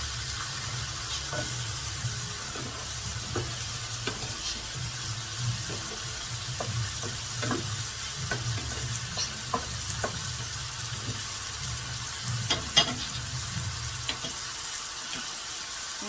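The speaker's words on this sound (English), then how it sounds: "Continue stirring it around. Get all the seasoning mixed in" Steady sizzling of food in a frying pan as seasoning and garlic are stirred in for salmon en croûte, with soft scraping stirs and light clinks recurring over the continuous fry, close and moderate, no talk.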